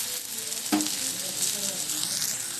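Katla fish and eggplant frying in a pan, a close steady sizzle with one sharp utensil clink and faint background voices.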